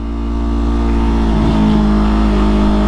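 A 2020 Yamaha R3 motorcycle pulls away under a loud, steady engine drone that rises slightly in pitch as it accelerates, close and continuous throughout.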